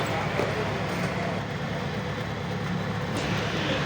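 A car idles and rolls just after its engine starts near a railway level crossing, making a steady low rumbling drone with road noise, fairly close and unbroken for a few seconds.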